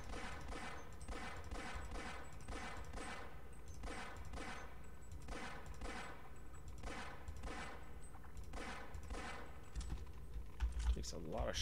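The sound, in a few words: gunfire shooting a bullsquid in Half-Life video game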